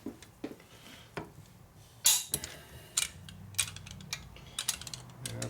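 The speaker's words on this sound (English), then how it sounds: "So we're going to go ahead and torque these some more." A torque wrench tightens cylinder head bolts on a 1972 Harley FLH 98ci shovelhead stroker motor, giving a series of sharp close clicks and ratcheting creaks at irregular intervals over a quiet background.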